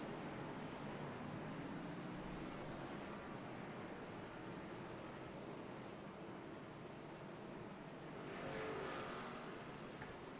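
Stock car engines roaring together in a racing video game at Phoenix, a dense, steady broadband drone with no break, swelling slightly near the end as the pack stacks up for a restart.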